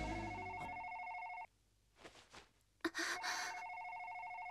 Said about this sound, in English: さ、電話だ。